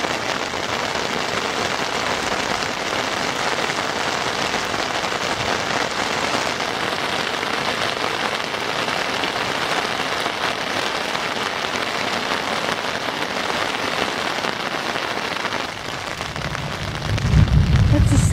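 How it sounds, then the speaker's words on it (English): Steady, dense rain patters on a tent close by, an even hiss with drops throughout, and a brief low rumble near the end. "This is for those of you who like to hear the sound of rain on a tent."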